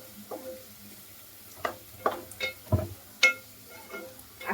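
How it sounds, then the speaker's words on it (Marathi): Onions fry in oil until brown for paneer tikka masala, a quiet sizzle broken by several sharp spoon-and-pan clinks and stirring taps, close-up with no voices. "आपल्याला हा कांदा मस्त असा ब्राऊन करून घ्यायचा आहे"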